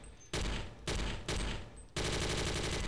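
Bizon submachine gun firing in the Half-Life mod Firearms: four loud, close bursts of rapid automatic fire, each starting sharply, with short gaps between them and the last burst running longest.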